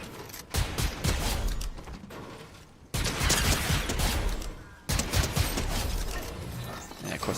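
Heavy blaster fire in a video game rattles out in dense, loud sustained bursts, breaking off briefly twice before resuming.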